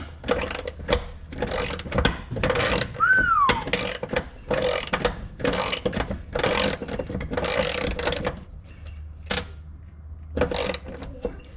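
A ratchet works a stubborn bolt on an old barn find car, bursts of rapid clicking in a repeated rhythm, close and loud, with a brief squeak partway through.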